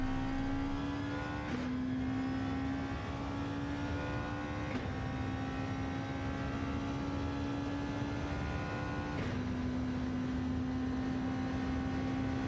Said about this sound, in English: we're going to try and engine brake, and like really heavily, all the way down to gear 1, right over that curb, directly back on gear 2 and accelerate.